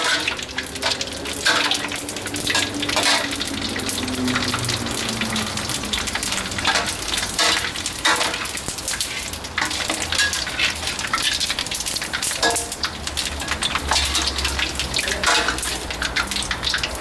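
Continuous loud sizzling and crackling of fish maw frying in hot oil, with occasional stirring and clattering over the steady hiss.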